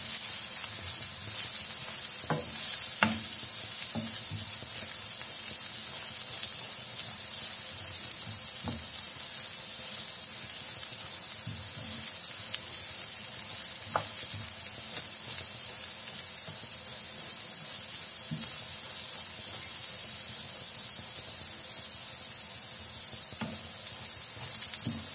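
Purple cabbage frying in oil in a pan, a steady loud sizzle and hiss throughout with occasional scrapes and clicks from stirring.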